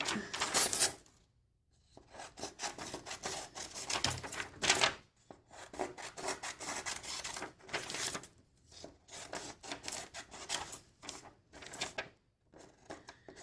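Paper is snipped with scissors and pressed into place while setting up an interactive notebook, giving quick dry crisp cuts and rustling rubs close up, with short quiet gaps between bursts.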